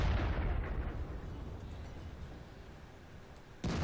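The M10 Wolverine tank destroyer fires its gun in World of Tanks: a heavy boom opens and rolls off into a long fading rumble, then another sharp blast hits right at the end.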